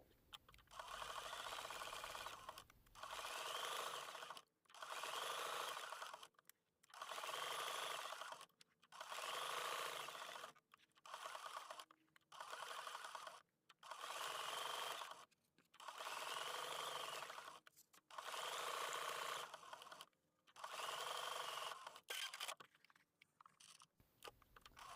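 A sewing machine satin-stitches raw edge appliqué on a quilt, running in repeated bursts of steady whirring a few seconds long, separated by short pauses, close and fairly loud with no talk.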